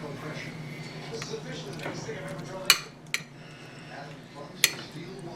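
Dishes and cutlery clink sharply a few times, in scattered bright knocks, while oven stew is served in a kitchen over a background of conversation.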